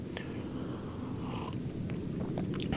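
A cat purrs close by, a soft, steady low rumble with faint clicks and small mouth sounds scattered over it, quiet overall.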